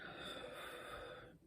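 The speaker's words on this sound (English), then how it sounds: "Deep breath in." A long, deep breath drawn in during a guided breathing exercise, a steady airy inhalation lasting over a second, close and quiet, fading at the end, with no talk.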